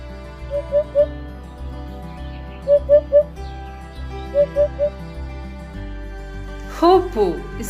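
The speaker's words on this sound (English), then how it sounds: "Hoopoe is the national bird of Israel." A hoopoe gives its soft, hollow triple hoot three times, each call a quick run of three evenly spaced notes, clear and fairly close over a faint steady tonal background.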